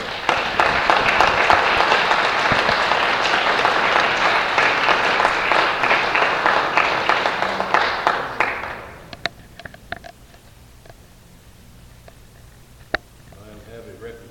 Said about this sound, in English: give them a hand of applause for their work